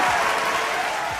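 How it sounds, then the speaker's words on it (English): A live audience breaks into a round of applause as a woman takes the floor at an interview event, the broadband clapping loud and steady throughout the short burst. "let's give another good round of applause while the queen takes the floor"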